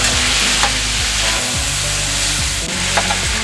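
Cheesesteak meat sizzles steadily in a hot pan, a loud continuous frying hiss with occasional stirring scrapes and clatters over a low rumble, no talk.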